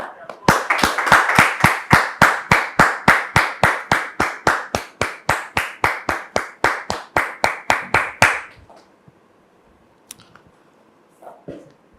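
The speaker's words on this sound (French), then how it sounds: "Merci de recevoir Dame Rosalie ici sur notre plateau de la vérité, sous vos applaudissements." A studio audience on a talk-show set claps in unison to welcome a guest, about thirty sharp rhythmic beats in a steady tempo lasting around eight seconds before dropping to near silence with a faint sound at the end.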